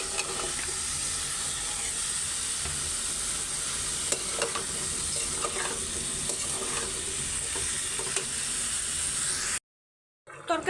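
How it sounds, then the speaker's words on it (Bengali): Mixed vegetables sauté for a curry in a hot pan, a steady close sizzle and hiss with intermittent stirring scrapes, cutting to silence near the end before a brief return of sound. "সবজিটাও দিয়ে দিই, একসাথে কষাই।"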